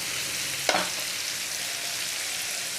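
Paneer fries with spices in a hot pan, giving a steady, close sizzle throughout. A single brief scrape or stir cuts through it partway.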